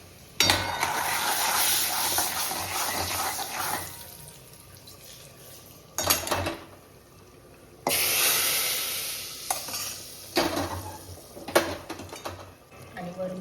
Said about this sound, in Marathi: आपण पावभाजी मसाल्याचा तडका देऊया